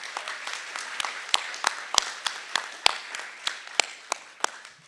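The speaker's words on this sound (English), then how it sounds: "Let's give them another round of applause" An audience at an alumni awards ceremony claps for award recipients, a fairly thin, close round of applause with distinct individual claps that tapers off over a few seconds.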